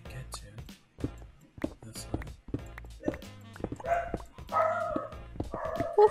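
A dog barks and yips in a series of short, irregular barks close by, mixed in with a person talking over them.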